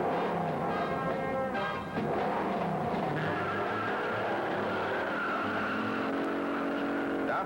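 A Kyosho 1970 Dodge Charger RC car accelerating down a quarter-mile run, a continuous high whining motor with shifting pitch and tire noise, close and steady throughout with no talk.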